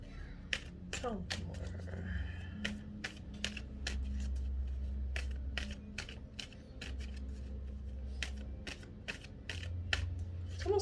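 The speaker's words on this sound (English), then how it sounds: "Shuffle that." Tarot cards being shuffled produce a quick series of crisp riffling snaps and soft flicks, close and fairly quiet, over a low steady background hum.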